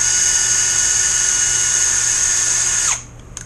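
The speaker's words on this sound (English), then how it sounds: "I put the threaded rod, the end without the thread, in the drill" An electric drill spins a threaded rod during a radio-controlled boat build, giving a loud, steady high whine for about three seconds before it winds down and stops abruptly, leaving a quiet room.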